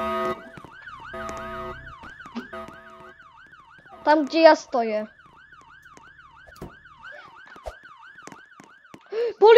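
Wailing police siren from a Roblox video game, a steady up-and-down electronic whoop repeating across the whole stretch, with a person speaking briefly over it midway and again at the end.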